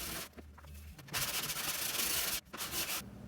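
A hand sanding block works the rough shaping of a molded spoiler on a 1970s Camaro, making close, raspy scraping strokes. Two long strokes follow a brief pause, and no one speaks.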